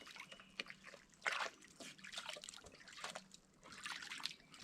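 River water flows along a mountain hiking trail in Alabama, a soft continuous trickling and sloshing with small splashy bursts, fairly quiet and close, with no talk over it.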